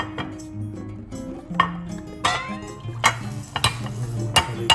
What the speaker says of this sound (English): let's transfer the sauce over here